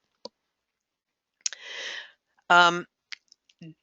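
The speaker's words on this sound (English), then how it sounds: "I keep clicking the wrong button" A computer mouse button clicks several times in short, sharp, isolated taps during an online webinar, close and dry, with quiet gaps and a few brief noises between them.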